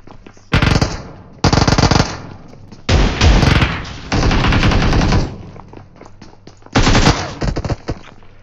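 Automatic weapons fire in bursts during an online shooter match. There are five loud rapid-fire volleys of a second or more, each separated by short quiet gaps.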